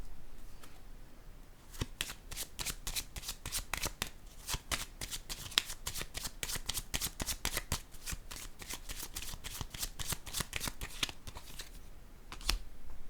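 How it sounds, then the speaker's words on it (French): A deck of cards is riffled and shuffled again and again in quick, crisp bursts of flicks, then a card is drawn for a reading. The sound is close and steady, with a faint pause near the end. "Je vais piger encore une carte."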